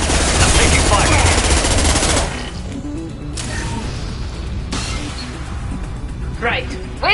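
Gunfire in the video game Mass Effect 2, a dense rapid burst of automatic shots up front, then scattered mechanical clanks and shorter reports, with voices talking over the action.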